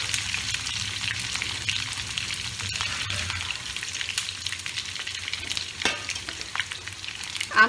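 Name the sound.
potato frying in hot oil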